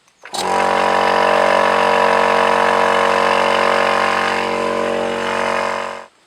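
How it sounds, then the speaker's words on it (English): An air compressor kicks on abruptly and runs with a loud, steady mechanical drone for several seconds before cutting off. "there the compressor stopped"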